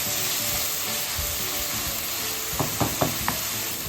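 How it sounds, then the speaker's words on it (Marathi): Tomato frying in oil in a pan as it cooks down to a mash, with a steady bright hiss of sizzling and a few quick spatula taps near the end. "आता हा टोमॅटो याच्यामध्ये पूर्णपणे विरघळला पाहिजे अशा प्रकारे आपण त्याला भाजून घेऊयात"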